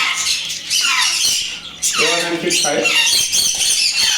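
African grey parrots squawk in a bird shop, a series of loud, harsh, close squawks and squeals repeating over a few seconds.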